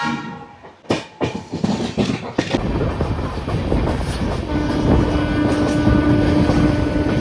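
Aboard a moving passenger train between Kolkata and Keonjhar, a loud rumble builds after a few sharp clanks and bangs, then settles into a steady rolling roar of the compartment in motion.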